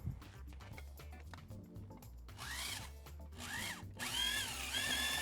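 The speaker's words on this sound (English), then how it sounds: "All you need is a drill and a mix attachment" A power drill with a mixing attachment whirs in bursts, its motor rising and falling in pitch as it churns through thick mortar, with some clanking between runs.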